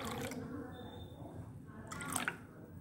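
Kokum water is poured into a bowl for sol kadhi, a faint trickle and a few soft drips in a quiet kitchen.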